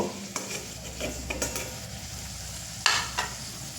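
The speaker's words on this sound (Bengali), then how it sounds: "দেখুন আলুগুলো আমার ভাজা হয়ে গেছে" Potatoes fry in hot oil in a pan during vegetarian bottle gourd kofta cooking. A close, steady sizzle carries scattered scraping and stirring knocks, with one louder clatter near the end. No voices.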